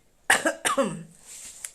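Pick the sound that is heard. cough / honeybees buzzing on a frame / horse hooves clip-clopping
cough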